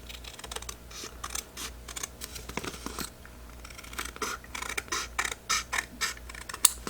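Paper being cut by hand with scissors in straight lines while making a bumble bee junk journal cover, a run of crisp snips and rustles close up that grow louder and more regular toward the end, with no talking.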